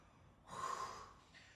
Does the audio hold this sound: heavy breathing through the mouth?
yes